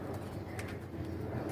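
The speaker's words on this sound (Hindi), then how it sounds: "तीन कबूतर बैठे हुए हैं" Pigeons perched on a net coo softly against a loud, steady outdoor background hum, with a few brief calls standing out and no speech.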